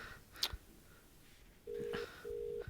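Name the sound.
phone call ringing tone in a Hindi dubbed movie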